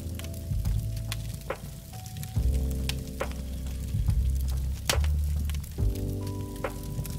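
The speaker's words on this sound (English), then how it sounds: "you can hear that it's sizzling and popping and cracking in the background." Steak cooking over a fire in the survival game SCUM, giving a steady close sizzle with scattered sharp pops and crackles throughout.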